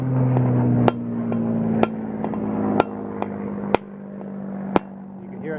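A sprouted coconut is tapped with the back of a heavy knife, giving six sharp, evenly spaced knocks about a second apart, close and loud over a steady hum, with no speech.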